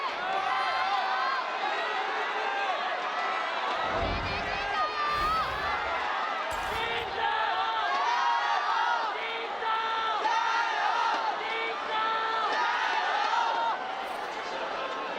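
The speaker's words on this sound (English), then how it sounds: "I'll be honest, Clement, this is the first time I've ever heard the EDG fans not organized" A large esports arena crowd of EDG fans roars and shouts in loose, unorganized chants, a continuous wall of cheering with a few sharper surges and commentators talking over it.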